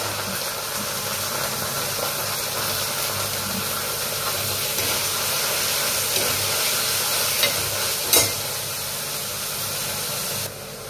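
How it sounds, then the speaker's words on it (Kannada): Tomato and coriander fry in a pan with a steady, close, hissing sizzle that runs unbroken for about ten seconds, with a faint clink partway through and no talking. "ಟಮಾಟಿ ಸ್ವಲ್ಪ ಕೊತ್ತಂಬರಿ ಅದನ್ನೆಲ್ಲ ಫ್ರೈ ಮಾಡ್ತೀನಿ ರೀ"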